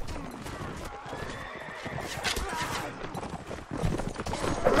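Horses neigh and hooves clip-clop in a Mount & Blade Warband battle, a shrill whinny rising over steady galloping and rumbling combat noise that grows louder toward the end.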